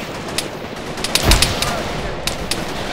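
Incoming return gunfire in the video game Arma 3 cracks in a scattered series of sharp shots, some near and loud, with one heavier burst in the middle, over a rumbling battlefield background.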